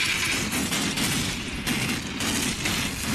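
Cannon fire in a Chinese war TV drama: a rapid volley of heavy booming blasts and explosions overlapping in a dense, continuous barrage for a few seconds.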